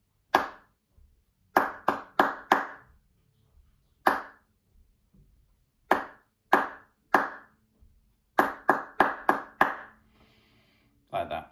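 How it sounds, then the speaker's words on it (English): Hands clap a rhythm from music notation, sharp close claps alone in the room: single claps spaced apart, then quick groups of three and four, ending with a rapid run of claps. "if I just clap for you the top line"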